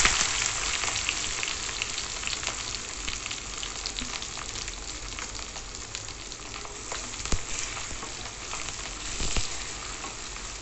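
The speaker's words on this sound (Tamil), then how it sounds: "கூடவே நம்ம நறுக்கி வச்சுருக்கிற 150 கிராம் சின்ன வெங்காயத்தை சேர்த்து வதக்கிக்கோங்க" Small shallots sauté in hot oil in a pan for a Tamil-style ground-masala chicken curry, giving a steady, close, continuous sizzle and crackle with occasional louder pops and stirring scrapes, no voices.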